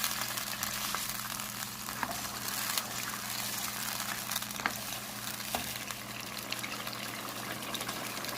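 Mutton sizzles and fries steadily in a pot while it is stirred, with occasional clinks and scrapes from the mixing over a constant close crackle.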